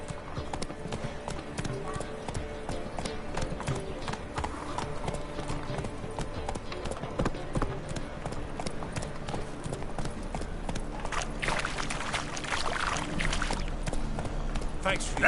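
Roach, Geralt's horse in The Witcher game, gallops with steady, rapid clip-clop hoofbeats running throughout under music and game dialogue, growing busier and louder toward the end.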